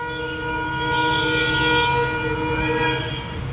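A train rolls past at KSR Bengaluru station, its horn sounding loud and sustained over the rumble of wheels on track, close by with no talk.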